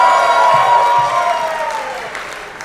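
Studio audience at a live comedy dating show applauding steadily, a dense wash of clapping that starts loud and slowly fades over a few seconds, with no one speaking.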